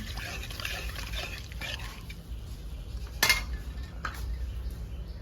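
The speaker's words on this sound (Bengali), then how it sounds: "বিনা ছাকনাতেই আমি জলটা দিয়ে দিলাম" Water poured into a pan of ground mustard paste for a village-style fish curry, a short liquid trickle and splash with light clinks of metal cookware, close and mixed with faint kitchen background noise.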